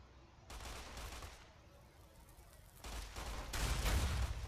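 Gunfire in the Fallout: New Vegas video game, heard as faint bursts of noisy shots at low level, with a louder, denser volley near the end.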